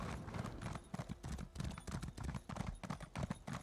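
A horse's hooves clip-clop at a steady trotting rhythm in the video game Elder Scrolls Online, in the Northern Elsweyr region, close and fairly quiet, with no talk over them.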